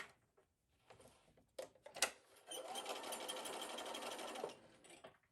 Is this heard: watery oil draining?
no